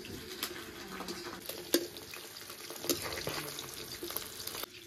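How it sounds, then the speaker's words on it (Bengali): Small whole fish frying in oil in a pan as they are turned over, a steady close sizzle with scattered pops and a couple of sharp spatula knocks against the pan, no voices. "বন্ধুরা এক সাইড মাছের পিস ভাজা হয়ে গেছে, মাছগুলো ভাজা হয়ে গেছে এক সাইড। এখন উল্টে দিচ্ছি।"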